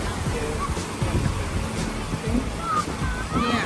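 Ocean waves wash in on a Melbourne beach as the tide rises on a windy day, a continuous broad rushing surge with swelling pulses and wind buffeting the microphone. Faint voices sit in the background.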